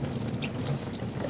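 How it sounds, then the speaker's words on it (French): Running water rinsing a freshly etched copper circuit board, a steady, close splashing flow with no talk over it. "On rince abondamment"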